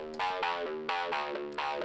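A Serum synth riff recreating a song, processed with amp and EQ, plays repeated distorted, bright stabs with crisp attacks and a fuller midrange, loud and with no voices.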